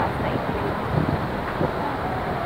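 Wind blows during Typhoon Hanna, a steady broadband rush with small gusty swells that stays fairly even across a short stretch.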